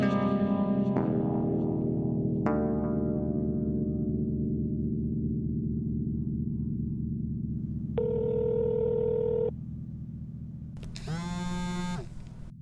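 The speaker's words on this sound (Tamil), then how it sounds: "குட்டிக்கு கால் பண்ணுவோம்" Mobile phone tones play in sequence: steady dial tones that step down as each new tone starts, then a pause, a bright buzzy tone burst and a rising warble near the end. All of it is loud and close, with no voices.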